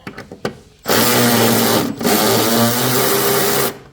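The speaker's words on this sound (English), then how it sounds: "I'm going to go ahead and remove those 13 millimeter bolts or nuts" Power tool whirring steadily while removing 13 mm bolts from the water outlet pipe on a 2013 Ford Transit: a loud, continuous run of about three seconds with a brief pause partway through, after a few light clicks.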